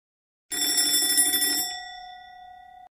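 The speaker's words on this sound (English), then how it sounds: "My phone is ringing." Phone ringing with a bright electronic ringtone, loud and close, starting after a short silence, sounding about a second and then trailing into a long sustained fading tone, with no talk over it.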